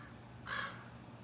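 A single loud crow caw rings out close by, one harsh call of about half a second over a low outdoor rumble.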